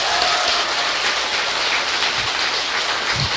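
Dense applause from a crowd at a Buddhist dharma talk, a continuous rush of clapping that stays loud throughout.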